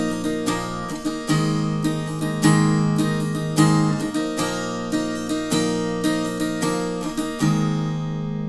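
Rhythm guitar strums the bridge of a song, steady repeated chord strokes with bright attacks in a driving pattern, close and loud with no voice over it.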